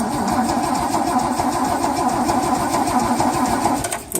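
A car engine, brought to life with help from a 1000A battery jump starter set to boost, runs at a steady, close idle throughout. Its low, even thrum cuts off abruptly at the very end.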